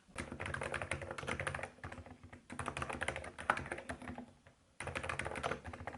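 Steady keyboard typing while a blog review of a Galaxy Folder2 phone is written, bursts of rapid close keystrokes broken by short pauses around two and four and a half seconds, no talk.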